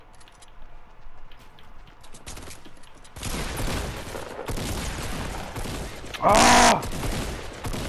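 Rapid bursts of gunfire from a first-person shooter match, dense and loud at first, then a sharp, very loud blast near the end, with a brief shouted exclamation over the shooting.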